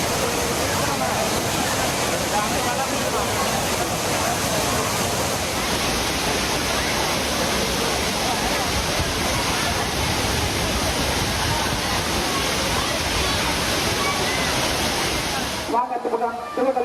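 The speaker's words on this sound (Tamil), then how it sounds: "தென்காசி குற்றாலம் 5 அருவிகளில் தண்ணீர் ஆர்ப்பரித்து கொட்டுகிறது" Water from the five Courtallam waterfalls in Tenkasi crashes down in a loud, steady, broadband roar that fills the scene without a break and cuts off abruptly near the end.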